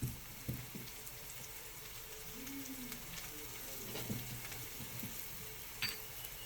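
Spices being stirred into onions frying in a pan while preparing stuffed chicken, a soft steady sizzle with faint scraping and a few light knocks of the spoon, close and fairly quiet, no talking.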